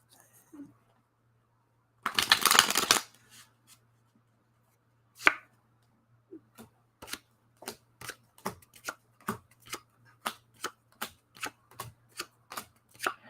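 Playing cards being shuffled and dealt down onto a table, a dense riffling burst early on followed by a long run of sharp, evenly spaced slaps and flicks growing more regular, with faint talk in the background.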